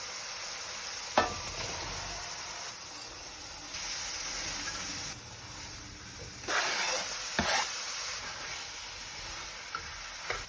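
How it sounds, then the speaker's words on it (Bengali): Spiced cabbage sautés in a pan for a cabbage ghonto, giving a steady soft sizzle with occasional louder crackles and stirring scrapes close by, and no talking. "এটা এখন ভালো করে কষাতে হবে।"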